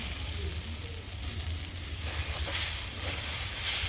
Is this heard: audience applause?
no